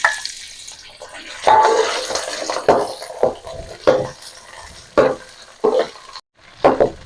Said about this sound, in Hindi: तेल काफी गर्म हो गया है, अब इसमें डाल देती हूँ।